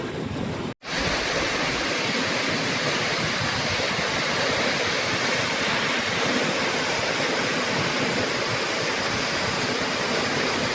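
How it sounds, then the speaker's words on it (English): The Stavanger waterfall rushes with a loud, steady broadband roar, unbroken except for a momentary dropout near the start. "We have arrived at the Stavanger waterfall. I can feel the spray coming off of it from here."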